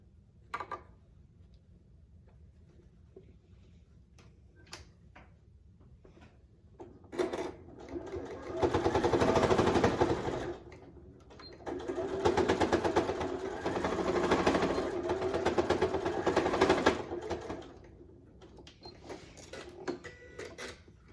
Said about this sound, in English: take it to the sewing machine and stitch it down multiple times so that we are assured that it holds on